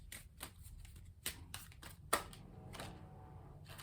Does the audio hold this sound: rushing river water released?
no